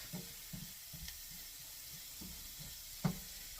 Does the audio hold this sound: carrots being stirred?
yes